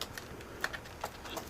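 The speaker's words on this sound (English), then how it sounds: "Let me just put this keyboard in." A Sony Vaio laptop keyboard being slid into its bay and pressed into place, a series of faint, light plastic clicks and taps at an irregular pace, close up and quiet.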